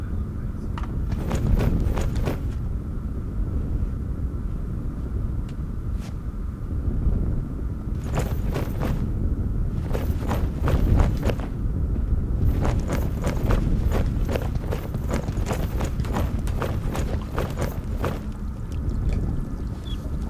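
Horse hooves clip-clop in a fantasy game village near a blacksmith, coming in bursts of quick, steady footfalls over a constant low rumbling ambience, with short pauses between the runs.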